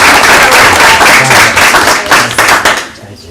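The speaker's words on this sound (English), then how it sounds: "Let's way give them a round of applause and thank you for what you did." Loud applause and clapping from an audience at a county fiscal court meeting, dense and sustained before thinning out and fading near the end.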